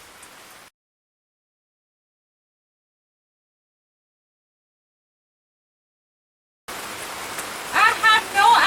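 Heavy rain pours down steadily after a thunderstorm at a fairground, a loud hiss that starts abruptly after a long silence, with a few louder bursts near the end.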